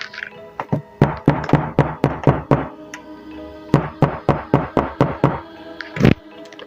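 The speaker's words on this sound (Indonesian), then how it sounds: "pintu terdengar digedor-gedor dengan keras" A door is pounded hard with a fist, two loud close bursts of about eight rapid heavy knocks each separated by a short pause, ending with one final thump.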